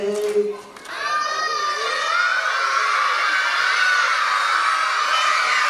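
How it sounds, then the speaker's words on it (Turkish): Children in a theatre audience erupt into a loud, sustained shout that swells after a brief moment of adult speech and holds steady as one continuous roar of high voices. "Ne oluyor ya, ne bağırıyorsunuz?"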